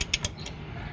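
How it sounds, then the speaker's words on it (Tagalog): Ratchet being turned while fitting an air-conditioning belt on a car without an adjuster, giving three quick clicks in the first half-second and one more after, close up over a low mechanical hum, no voices. "lalagay po natin yung ratchet, sikutin lang po natin ng ganyan"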